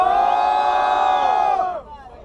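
Audience at a Brazilian street rap battle shouting and cheering in a loud, tonal collective yell that holds steady, then breaks off and fades near the end.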